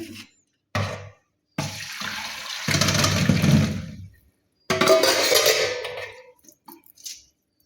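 Water from boiled amla (Indian gooseberries) strains off through a strainer in a kitchen, coming as several separate splashy pours and trickles with brief clinks and pauses between them, close and fairly loud.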